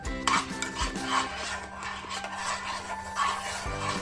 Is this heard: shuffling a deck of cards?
no